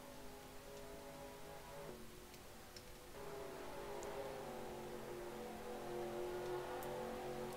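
NASCAR Racing 2003 stock cars at Chicagoland accelerating away once the pace car pulls in, engines droning low then rising in pitch and loudness as the pack speeds off.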